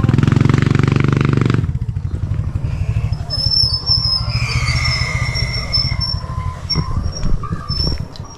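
Motorcycle riding at close range, a loud engine drone that drops after a second or so into a rumbling, pulsing idle with squeaks and clatter from the bike, no one speaking.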